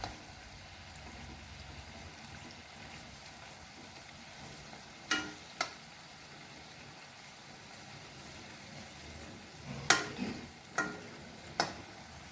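Mangalore bajji fry in hot oil until golden brown, giving a quiet, continuous low sizzle with a few sharp metallic clinks of a utensil against the pan scattered through.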